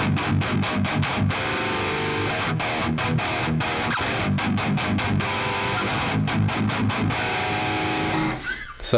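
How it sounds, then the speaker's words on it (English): A heavily distorted electric guitar through Neural DSP amp plugins chugs in tight, rhythmic palm-muted bursts with short gaps, played loudly and continuously, then cuts off near the end. "you already got some guitar tones going on here"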